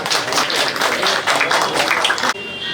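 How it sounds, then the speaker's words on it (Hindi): An audience at a school teacher's retirement ceremony claps steadily and briskly for about two seconds, a fairly close crowd, before the sound cuts off abruptly. "ताली बजाएं सर।"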